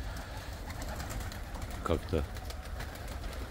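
White Baku pigeons coo softly in a loft, a couple of low throaty calls rising briefly over steady background noise while someone talks nearby.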